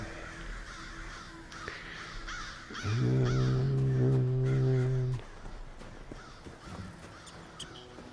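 Crows caw in The Elder Scrolls Online, a run of harsh, drawn-out calls rising loud in the middle, with scattered softer caws and faint ambient noise around them.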